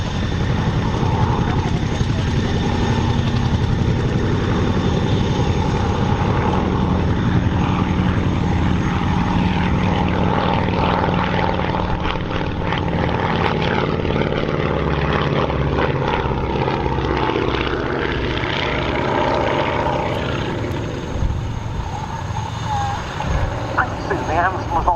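An Avro Anson twin-engine propeller aircraft flies past during an air show, giving a loud continuous engine drone that fills the whole stretch, with a commentator speaking over it.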